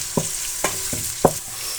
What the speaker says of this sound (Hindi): ऑयल लिया है फ्राइंग पैन में और ऑयल में हमने ऐड कर दिया है प्याज